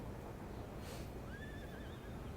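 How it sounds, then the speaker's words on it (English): A horse whinnies shrilly in a short, wavering cry over a steady background rush, with a brief snort-like burst just before it, in the video game Empire: Total War. "Steady the horses, steady the horses."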